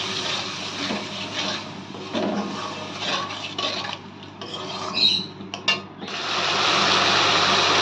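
A utensil scrapes and rubs through masala cooking in a pan for doi pabda fish curry. Then a little water goes in, and a loud, steady hiss and sizzle takes over to the end.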